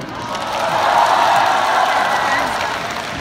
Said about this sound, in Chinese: 很整齐就结束了你们的掌声。